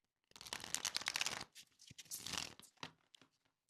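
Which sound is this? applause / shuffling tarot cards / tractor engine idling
shuffling tarot cards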